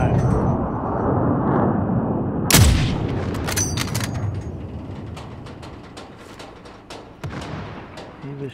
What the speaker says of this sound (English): He was shooting over here.